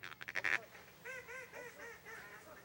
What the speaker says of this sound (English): small groups of ducks began filtering across the marsh.